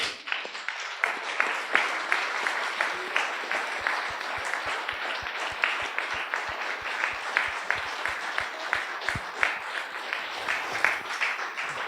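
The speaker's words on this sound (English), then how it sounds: "Please applause now." Audience applause after a lecture on the global economy, a hall full of clapping that settles into a rhythmic, synchronized beat of sharp claps repeating steadily for several seconds.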